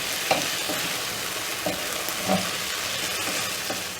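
Potatoes fry in a pan over low flame, giving a steady, dense sizzle with a few soft knocks as they are moved, close and even throughout without speech.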